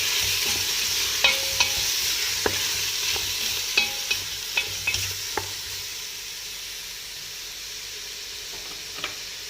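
Mexican peppers, garlic cloves and cluster tomatoes sizzle steadily in a hot pan as a utensil stirs them, with a constant frying hiss broken by several soft scraping clicks.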